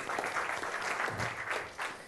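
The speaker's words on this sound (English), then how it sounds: "please a round of applause" Audience applause at a startup ecosystem panel in Turkey, a steady burst of many hands clapping that holds fairly even throughout, moderately loud from the room, with no voices over it.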